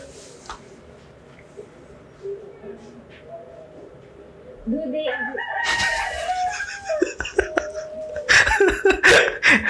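A rooster crows nearby in the second half, a strained rising call mixed with clucking fowl and clattering noise, after a quieter stretch with faint background voices.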